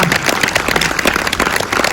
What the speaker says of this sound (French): Je vous demande s'il vous plaît un tonnerre d'applaudissements pour Yann Kounen, le réalisateur de ce film